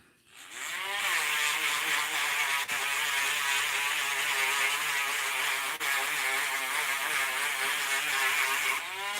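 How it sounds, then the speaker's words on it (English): A Dremel rotary tool grinds the edges of a thick handmade pure silver ring, a loud, steady high-pitched whine that runs unbroken with slight wavering in pitch and no talk. "The Dremel tool."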